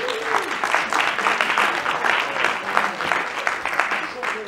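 Seminar audience gives itself a round of applause, a full, steady clapping that stays loud and even throughout, with a few faint voices rising within it.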